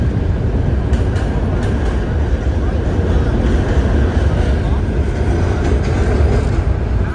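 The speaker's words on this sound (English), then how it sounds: "there is a train going down below" Steady low rumble of a train rolling past below in Manhattan, heard from a bus, continuous and fairly loud, with faint rattling clacks and a hint of wind noise throughout.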